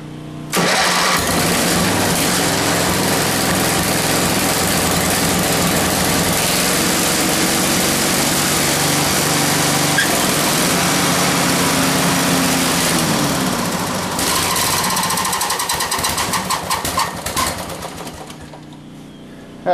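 A small generator engine starts up and runs steadily at a loud, close, droning pitch in a workshop, then falters and winds down near the end.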